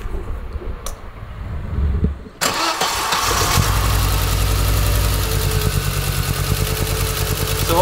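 Mazda MX-5 engine with a new NGK spark plug: after a couple of seconds of quiet and a brief crank, it catches abruptly and settles into a loud, steady idle close by.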